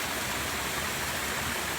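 Creek water tumbling over rocky, slow falls in a subtropical rainforest, a steady broadband rushing wash, close and constant.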